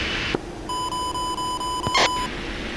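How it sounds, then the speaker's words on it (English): Steady electronic beeping from a wingman's radio in a flight simulator game: a sustained tone with regular pulses over a low hum, plus a brief louder burst near the end, with no talk. "I just hear him, like, making beeps."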